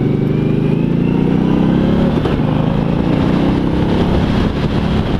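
A 2016 Victory Octane motorcycle engine runs with a loud, steady rumble close by, rising slightly in pitch, mixed with wind buffeting at riding speed and no talk.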